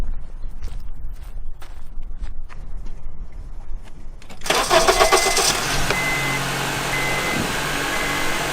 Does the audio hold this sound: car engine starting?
yes